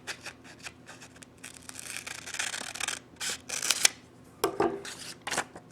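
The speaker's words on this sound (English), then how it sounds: "Take your scissors and cut that line." Scissors snip and slice through paper up close, a series of crisp rasping cuts with rustling between them.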